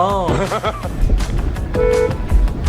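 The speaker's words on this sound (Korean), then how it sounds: "경적 울리며 경고를 해주지만" A car horn honks as a warning in a parking garage where a car is driving the wrong way, a short toot followed by a longer steady blast, with a voice talking over the scene.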